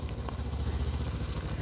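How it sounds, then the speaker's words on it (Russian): A Suzuki DL250A V-Strom 250cc motorcycle idles nearby with a low, steady, slightly uneven engine pulse, no voices over it. "Все, как вы видите, мотоцикл на ходу."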